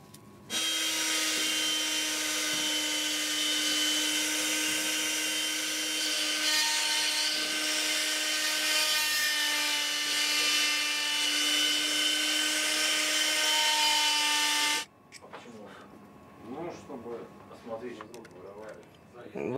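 A small drill carving mammoth ivory chess pieces in a workshop; a loud, sustained high-pitched whine runs steadily for about fifteen seconds, then stops abruptly, followed by a person speaking.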